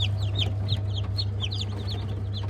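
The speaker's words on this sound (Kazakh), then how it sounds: "бізде мына жерде кеше ғана шыққан бір апталық балапандар" One-week-old chicks, freshly hatched from a small incubator on a farm, peep in rapid high chirps that repeat in quick succession over a constant low hum nearby.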